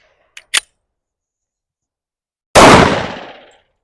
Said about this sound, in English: we were going to shoot the SIG, the 5-inch model